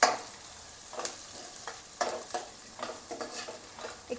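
Ginger garlic paste stirred into browned frying onions for a home-style rajma masala, with a steady sizzle and a spoon scraping the pan in repeated strokes about every half second, close and clear, no talking.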